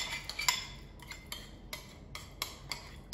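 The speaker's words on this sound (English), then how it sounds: "So I'm going to mix my jam up." A spoon stirs jam in a bowl for a Victoria sponge, making quiet, close, irregular clinks and taps against the bowl, with no talk.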